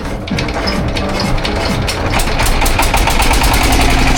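A boat motor runs steadily on a haor wetland trip near Nikli, a loud continuous engine drone with rhythmic knocking that holds even throughout.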